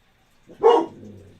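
A single short bark from a puppy rings out close by in an otherwise quiet room, followed by a brief low trailing sound.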